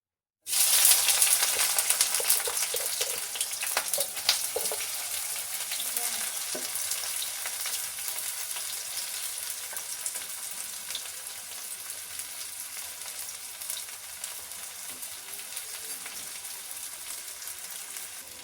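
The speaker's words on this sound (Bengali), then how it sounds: "এখানে পেঁয়াজ আমি দিয়ে দিয়েছি, এবার ভালো করে ভেজে নিতে হবে পেঁয়াজটা" Onion sizzling loudly in hot oil in a kadai, a dense steady crackle that starts abruptly and gradually settles to a softer, even fry, with a few scraping stirs near the beginning.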